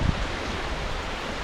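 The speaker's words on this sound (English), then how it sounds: "And there's the little babbling brook" A small babbling brook flowing downhill along a carriage road trail in Acadia National Park, a steady, close rush of water that stays even and unbroken.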